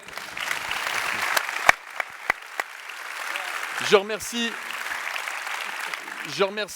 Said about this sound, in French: Je crois qu'on peut les applaudir s'il vous plaît